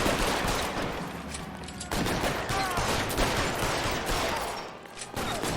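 Dense, continuous gunfire in the LA Noire video game, with overlapping rapid shots and bursts that fill the scene loudly, briefly cutting out before resuming.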